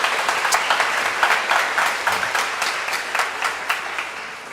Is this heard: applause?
yes